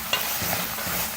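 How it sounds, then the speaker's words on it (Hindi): Mutton mince frying in half a cup of oil over a medium flame, a dense steady sizzle with stirring scrapes close up, no voices. "हाफ कप ऑयल शामिल कर दिया और मीडियम फ्लेम पर कीमे को अच्छी तरह से भूनेंगे।"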